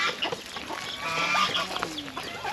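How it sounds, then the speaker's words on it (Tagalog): Chickens with their chicks on a farm cluck and cheep continuously up close, a busy overlapping chorus of fowl calls with no talking. "may bago tayong manok na naman may mga sisiw"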